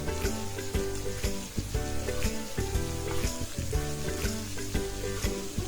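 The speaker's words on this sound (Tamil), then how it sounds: "ஒவ்வொன்றா போட்டு பொரிச்சு எடுத்துக்கலாங்க." Parotta pieces deep-frying in hot oil give a loud, steady sizzle and bubbling close up, with a faint background hum and no speech.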